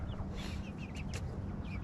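A rooster clucks and makes a few short squawks over a low, steady background rumble, fairly close but not loud.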